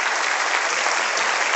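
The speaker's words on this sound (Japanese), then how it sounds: "皆さん、もう一度大きな拍手をお願いいたします。" A large crowd applauds steadily and loudly at the 2014 Miss Universe Japan Tokyo final selection, a dense wash of clapping that holds the whole time.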